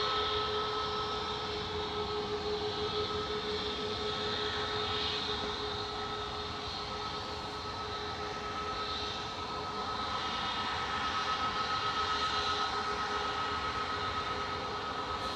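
A Ryanair airliner taxis past at Manchester Airport, its engines giving a steady distant whine and roar that swells slightly as it moves along the taxiway.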